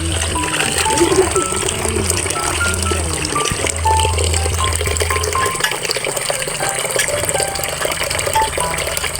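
Water runs steadily from a village water source, a continuous gushing and splashing that holds throughout, with faint background sounds and no clear speech.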